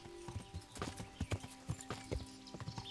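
Horse hooves clip-clop at a steady riding gait in the medieval game Kingdom Come: Deliverance, a brisk, even rhythm of fairly close thuds over a low hum.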